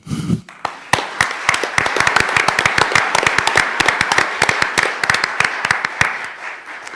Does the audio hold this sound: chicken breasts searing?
no